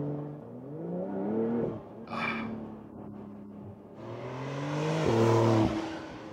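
A Porsche 911 Carrera S exhaust drones steadily with shifting engine tones, rising and falling through revs, loud and close, with a brief hiss and a louder surge near the end.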